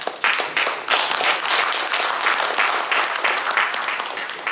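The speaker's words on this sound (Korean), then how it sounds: "박수로 축하드립니다." A congregation claps steadily for a church retirement thanksgiving and ordination service at Masan Somang Church, dense, even applause filling the room throughout without pause.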